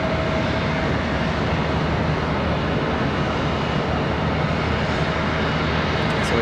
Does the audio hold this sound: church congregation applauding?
no